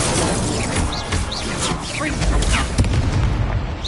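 The Incendio fire spell from Hogwarts Legacy gameplay bursts out as a dense, loud roar amid whooshing spell effects and game noise, sustained throughout with a sharper hit near the end.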